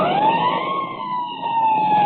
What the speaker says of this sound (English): I'll give the siren all the way.